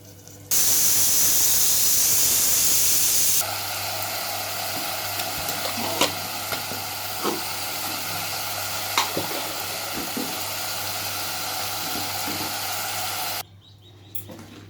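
Cabbage boiling with a little salt in a pot, a steady loud bubbling hiss that fills most of the stretch with faint clinks over it, then cuts off near the end.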